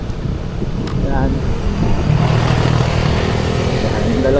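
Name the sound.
two motorcycles riding alongside on the road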